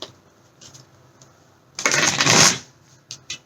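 A deck of tarot cards is shuffled in one dense riffle burst lasting under a second, close up, surrounded by quieter handling taps and rustles.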